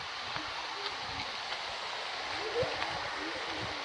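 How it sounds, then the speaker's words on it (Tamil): Close, steady rushing of river water near Perumbankuthu Waterfalls fills a few seconds, an even broadband roar with small splashes and knocks. "செம்ம சத்தம், தண்ணி சத்தம் கேட்குது."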